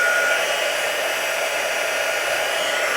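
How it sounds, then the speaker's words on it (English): A handheld heat tool runs continuously while warming up for card embossing, giving a steady, close, hair-dryer-like whooshing hum with no talk. "I'm going to turn the heat tool on really quick."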